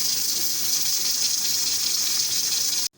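A pressure cooker on high heat cooking lentils builds steam pressure, giving a steady, loud, rushing hiss as the whistle begins to rattle, cutting off abruptly near the end.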